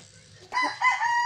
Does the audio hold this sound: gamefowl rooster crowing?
yes